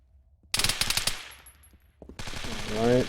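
Rapid bursts of Uzi submachine gun fire in a Bohemia video game, two short crisp volleys separated by a brief pause, with ringing tails and a mechanical tone after the second burst.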